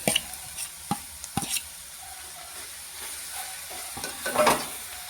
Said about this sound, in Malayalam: കക്ക കൂടി ഒന്ന് വറുത്തിട്ട് ഇതിനകത്തോട്ട് തന്നെ കക്ക കൂടി ചേർത്ത്